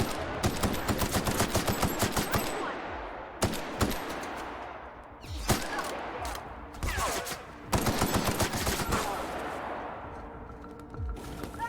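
Dense, loud gunfire from The Outer Worlds, with rapid automatic bursts and sharp shots close by, running almost without a break and echoing into a fading tail between volleys.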